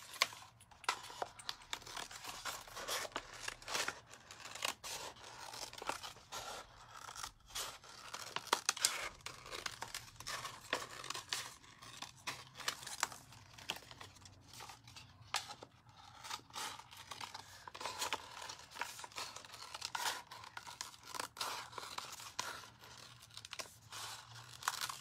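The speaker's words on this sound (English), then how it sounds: "I'm gonna cut out my second strip." A strip of vinyl is cut out for resin art, producing soft, continuous crinkling and snipping close by at low volume, with small crisp rustles throughout.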